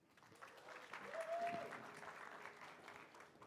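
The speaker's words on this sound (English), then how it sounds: "And y'all give it up for Mr. Mitch." Audience clapping swells into steady applause at a church youth group gathering, building to a peak midway and continuing at a moderate level, with faint crowd noise mixed in.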